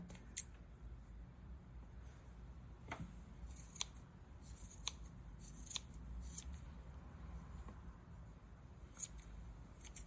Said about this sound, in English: So all these looped parts right here, I'm just going to cut.